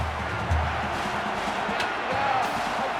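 A college football stadium crowd roars as a steady, dense wash of cheering and noise at a game between Alabama and Wisconsin, heard continuously at moderate loudness with a low thud near the start.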